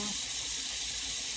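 Liquid is poured over pork steak in a baking dish, making a continuous close hissing, splashing pour that holds at an even level throughout with no pauses.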